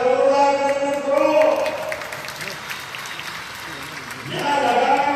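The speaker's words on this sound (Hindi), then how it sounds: "जोरदार तालियां करो" Crowd at an outdoor political rally in Narmadapuram applauding steadily for several seconds, a broad wash of clapping that starts and ends with someone speaking loudly over a public address system.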